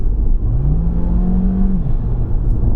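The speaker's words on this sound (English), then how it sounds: "so we've got both engines running at the same time." A Jeep Renegade 4xe hybrid with its 1.3-litre petrol engine and electric motor working together in sport mode accelerates at full throttle, a loud droning engine note that climbs and holds steadily, heard from inside the car.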